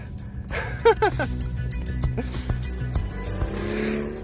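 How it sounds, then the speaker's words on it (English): A Mercedes-AMG car in a drag race revs and spins its tyres, short squeals and engine bursts over a low rumble, with people talking and exclaiming nearby. "you can just see it just wants to, whoa, spin its tyres"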